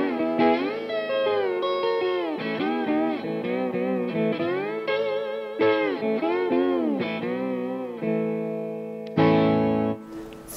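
An electric guitar is played with a glass slide through effects pedals and distortion, with sliding, wavering notes sustaining continuously at a loud, close level, then ending in a brighter, noisier strummed burst.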